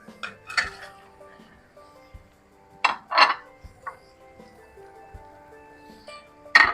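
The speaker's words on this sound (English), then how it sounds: "Let's give them a good stir to get that all mixed up." Beef, bacon and their juices being stirred in a pot, with scattered clinks and scrapes of a utensil against the pot at an uneven pace.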